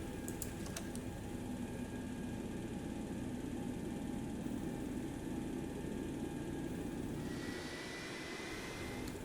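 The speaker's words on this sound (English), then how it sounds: "I'm going to start the engine number 3 first" Number 3 engine of a Boeing 727 starting up in X-Plane 11, a steady loud turbine whine and rumble that holds throughout, with a few brief cockpit switch clicks near the start.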